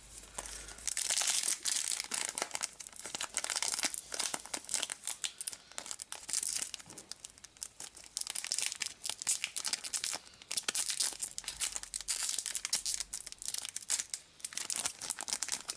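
Foil of a Yu-Gi-Oh Rush Duel booster pack crinkles and tears in close, repeated bursts of sharp papery crackling, handled steadily over several seconds with brief pauses.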